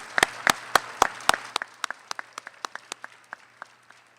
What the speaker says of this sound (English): Let's give a round of applause to all the organizers of the program.